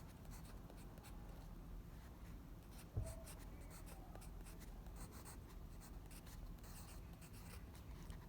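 A pen writes numbers and letters by hand on paper in a quiet room, a soft continuous scratching with one brief tap partway through, close and faint.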